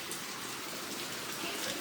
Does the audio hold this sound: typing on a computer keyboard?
no